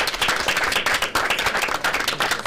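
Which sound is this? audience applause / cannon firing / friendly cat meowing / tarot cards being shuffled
audience applause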